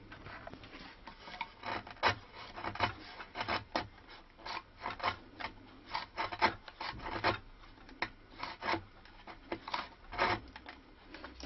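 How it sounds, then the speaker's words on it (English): A 2mm chisel cuts and scrapes into the wood of a stick dulcimer during trimming, giving a quick series of short, close rasping strokes in an uneven rhythm with brief pauses between them and no talk. "I'm using this 2mm chisel, but you can do it by knife."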